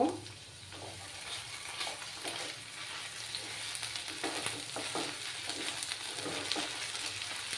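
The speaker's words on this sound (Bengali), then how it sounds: "আমি 1 স্পুনের মতো আদা রসুনের পেস্ট সেটাও দিয়ে দিচ্ছি, একসঙ্গে ফ্রাই করে নেব।" Ginger garlic paste frying in a pan over lowered heat for tangra fish curry, a continuous close sizzle broken by repeated stirring scrapes.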